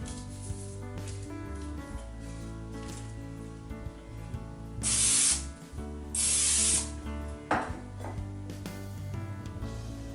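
Cooking oil sprayed onto a knife blade, two clear bursts of hissing spray a few seconds apart, near and fairly loud, over a busy musical background.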